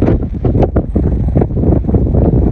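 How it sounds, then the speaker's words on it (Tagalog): Strong, steady wind buffeting the microphone during a snow squall in Edmonton, loud and continuous with gusty low rumble throughout. "Mahangin pa, parang blizzard."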